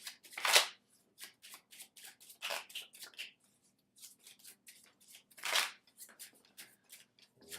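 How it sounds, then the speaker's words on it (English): Playing cards being shuffled during a tabletop card game, with several quick riffling bursts spaced across the stretch and softer card handling and shuffling in between, close and fairly quiet. "And then we'll just reshuffle and redeal."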